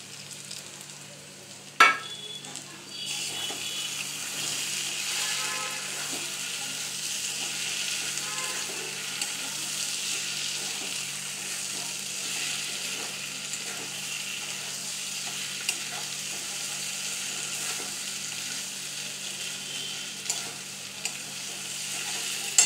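Poppy seed paste frying in a pan gives a steady, close sizzle and crackle of oil. A sharp clatter of stirring comes early, and then the frying goes on evenly, with no talk.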